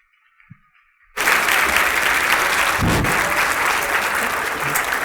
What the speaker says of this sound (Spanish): Recibamos con un fuerte aplauso a nuestro expositor Francisco Cárdenas Guerrero.